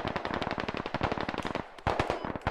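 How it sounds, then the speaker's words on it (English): Rapid automatic gunfire from the Squad military shooter game, dense bursts of sharp cracks in quick rhythm, loud and close, with a brief pause before another heavy volley. "I'm getting sniped at."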